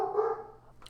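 A pet dog gives a single short bark, slightly distant and muffled indoors, fading quickly into quiet.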